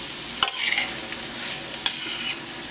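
Onions sautéing in oil, butter and garlic, a steady close sizzle with a couple of sharp utensil clicks as they are stirred, no speech.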